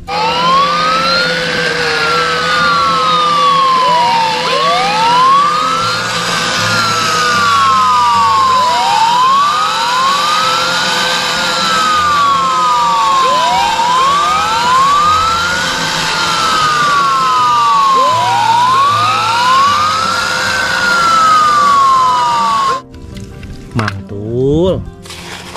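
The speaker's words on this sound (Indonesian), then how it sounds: "mobil pemadam kebakaran" Toy fire truck siren wailing in a rising and falling pattern, loud and continuous for over twenty seconds, then cutting off into handling clatter.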